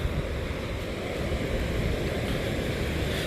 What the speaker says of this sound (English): Let's see the water rushing by.